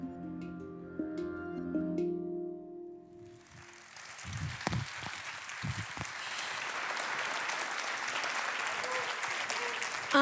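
An awards-ceremony audience applauding trophy makers at a provincial celebration evening in Namur, opening with a few seconds of music before dense, sustained clapping fills the hall for the rest of the clip.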